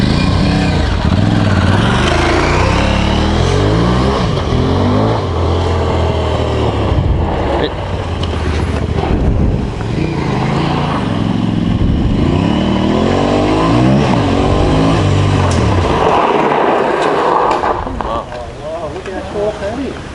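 A 2022 Aprilia Tuareg 660 adventure motorcycle accelerates hard with rising engine revs, then slows under front-brake-only braking in the off-road setting, loud and close, with a rider talking over the engine noise throughout.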